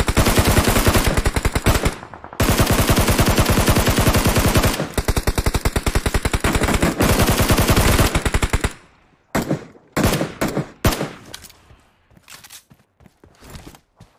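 Loud, sustained machine-gun fire from a shooting video game, rapid bursts running for most of the stretch with a brief pause, then cutting off into a few scattered, fainter shots and clicks near the end.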